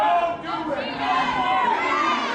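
A wrestling crowd at a PPW PowerSlam TV event shouts and calls out together, with loud, overlapping voices rising and falling throughout.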